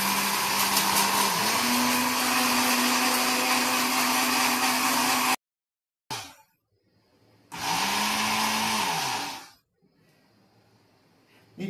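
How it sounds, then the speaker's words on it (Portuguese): Blender grinding toasted wheat germ into flour, a loud continuous motor whir that runs for about five seconds, stops, then starts again for a second burst before cutting out. "Esse aqui você bate no liquidificador para ele virar uma farinha."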